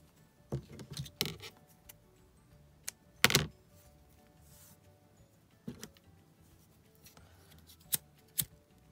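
Scissors snip through ribbon for a handmade star album, a few sharp, close, isolated clicks and cuts spread out with pauses between them, without speech.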